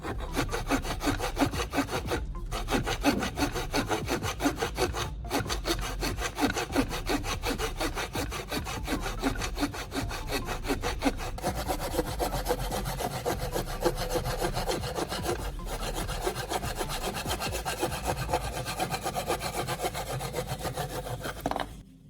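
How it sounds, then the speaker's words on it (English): Hand saw cutting a wedge-shaped wooden block for a chisel-sharpening guide, with steady rhythmic back-and-forth strokes rasping close and loud, broken by a few brief pauses, and no talking. "I carefully saw along the lines to cut out this wedge-shaped piece"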